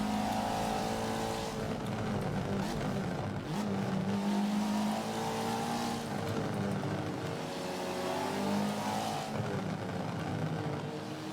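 Race cars cornering on the reverse Mountain Circuit at Dubai in a racing video game, a continuous layered engine drone with shifting pitch as several cars rev and pass, steady and fairly loud with no talk.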